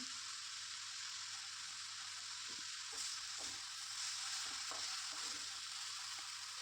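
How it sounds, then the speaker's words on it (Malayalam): Fenugreek leaves and potato with tomato sautéing in a pan, a steady soft sizzle with occasional faint stirring knocks, close and quiet, no voices. "ഇനി ഇതെല്ലാം കൂടെ നല്ലവണ്ണം ഒന്ന് വഴറ്റിയെടുക്കാം."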